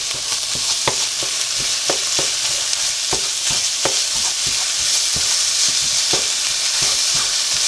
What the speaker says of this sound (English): we're going to brown this up.